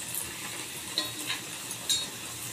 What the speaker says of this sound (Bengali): এটা একটু হালকা তেলেই ভাজতে হবে, বেশি গরম হলে হবে না।